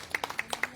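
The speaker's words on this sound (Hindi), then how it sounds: "तालियां बजिए" A few people clap at a morning yoga day class, sparse and uneven claps that are faint and somewhat distant, lasting under a second.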